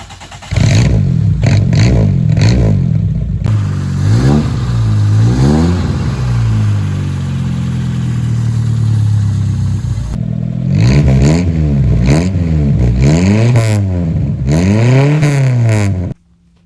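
A 1986 Toyota Corolla AE86 engine revs repeatedly and loudly, rising and falling in quick bursts, then holds a longer sweeping rev before another run of sharp blips that cuts off abruptly at the end; close up, no talk.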